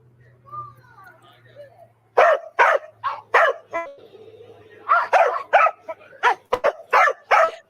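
Several dogs bark deeply in a quick series of loud, close bursts, after a stretch of quieter sounds at the start, with no speech in between.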